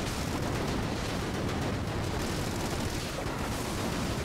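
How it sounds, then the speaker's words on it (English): Rocket explosions in the Enter the Gungeon video game, a dense, loud, continuous roar of overlapping blasts and bursts filling the whole stretch without pause or speech. "I'm getting knocked back by my own explosions"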